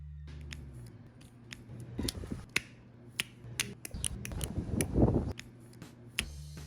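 Mechanism of a Nove Gemini wristwatch being fiddled with, giving a run of small crisp clicks and snaps at irregular intervals, close and fairly faint with no talking.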